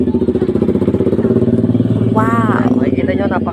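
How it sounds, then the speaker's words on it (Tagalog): A motorcycle covered in stickers runs steadily at close range, its low engine drone continuing throughout while someone talks over it. "Motor ito ni Tatay Dan"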